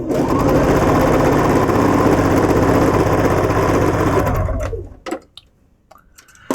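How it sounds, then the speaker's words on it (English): A sewing machine stitching a quilt block runs in a loud, steady whir for about four and a half seconds, then stops, leaving a few faint handling clicks. "And we're going to sew this baby right in."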